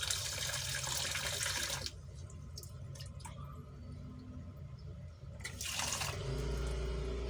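Tap water runs into a pot for cooking rice in two bursts, a steady rushing stream at the start and another short gush near the end, with quiet dripping and handling noises between.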